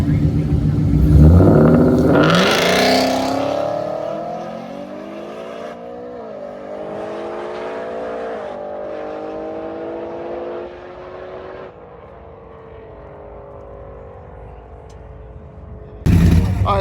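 A truck launches down a drag strip on its run, the engine roaring and climbing in pitch through successive gear changes, loud at first and then receding into the distance.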